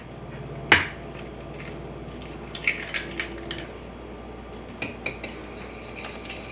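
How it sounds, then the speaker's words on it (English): Eggs being mixed one at a time into a gluten-free ice cream sandwich batter, giving a sharp utensil clack against the bowl followed by sparse, faint scraping and tapping knocks. "I've got 4 eggs here, and we'll just mix these in one at a time."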